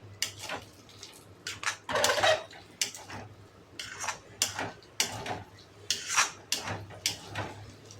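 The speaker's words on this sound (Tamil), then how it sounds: "இப்போ சிக்கனையும் இதையும் ஒன்றா கலந்துருவோம்" Chicken and onions are stirred together in oil in a pan for chicken fried rice, a utensil clattering and scraping against the pan in irregular close knocks throughout.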